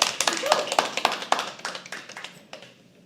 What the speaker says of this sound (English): Keep the claps going because we have our first performer coming up.